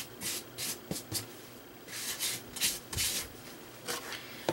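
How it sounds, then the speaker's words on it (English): Someone brushes eraser shavings off drawing paper into a trash can, making soft, quiet swishing strokes in irregular bursts. "I'm going to brush off my eraser shavings in the trash can."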